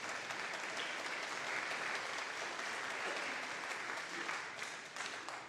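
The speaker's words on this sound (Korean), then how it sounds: "우리 박수로 환영하겠습니다." A church congregation applauds to welcome visitors, with sustained, even clapping from many hands filling the sanctuary at a moderate distance and holding steady throughout.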